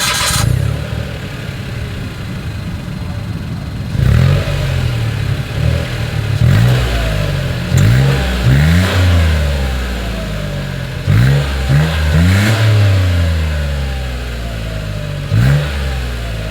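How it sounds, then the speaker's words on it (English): A 2023 Mitsubishi Mirage's exhaust revs repeatedly, engine note rising and falling in quick blips over a steady idle, loud and close with no talking. "As always, here is that exhaust clip."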